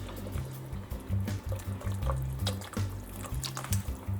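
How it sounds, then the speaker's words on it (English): Coconut milk pours into a pot of stew peas, a close, thick glugging liquid stream with bubbly pulses, steady and without voices. "We're going to go in with some coconut milk."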